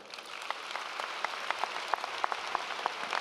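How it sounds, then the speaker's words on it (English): Audience applause for faculty at a university commencement ceremony, a steady wash of many hands clapping at moderate distance with scattered sharper individual claps, no talking over it. "Give them a round of applause"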